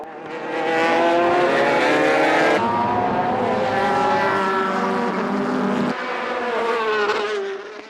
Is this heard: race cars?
yes